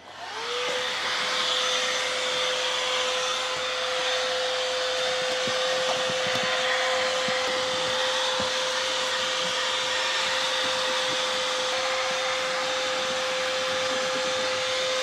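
Vacuum cleaner running steadily and loudly for the whole stretch while cleaning the floor underneath where a carpet lay, a constant whine with a strong sustained tone and no talk.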